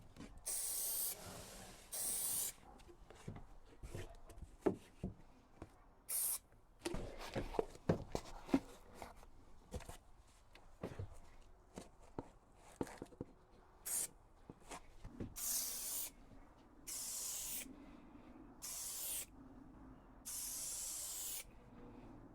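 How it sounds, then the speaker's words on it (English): Spray glue hisses onto the ceiling of a VW Crafter camper van conversion in a series of short bursts separated by pauses and quiet handling sounds, close and fairly loud. "When I spray glue on the ceiling"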